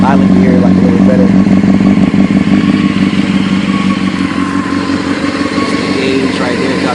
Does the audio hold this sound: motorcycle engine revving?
yes